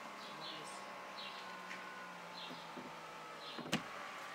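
An electric sunroof closes on a BMW E30 M3 Evo 1 with its motor running as a faint, steady hum inside the cabin, ending in a sharp click near the end.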